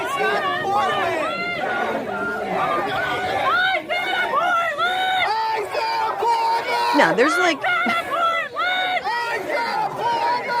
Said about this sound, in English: they're screaming "Ice out of Portland."